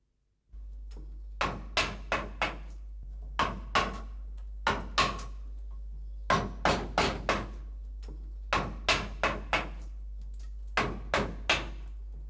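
Mallet blows rough-carving a hardwood sculpture in walnut or mahogany: sharp, crisp knocks fall in quick bursts of three or four, separated by short pauses, over a steady low hum.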